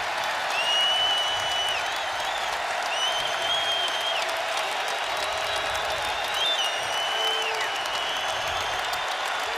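A basketball arena crowd at a Virginia vs. Louisville ACC men's game cheers and applauds a player in a steady, roaring wash of sound, with faint whistles and shouts rising through the noise.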